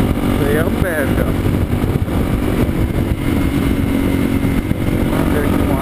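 A motorcycle engine runs close by with a steady, throaty drone and slight rises, while people talk over it.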